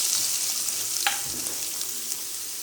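Onions sizzle in hot oil with mustard seeds and urad dal for beetroot poriyal, a dense continuous hiss up close with a brief stir or scrape partway through and no voices.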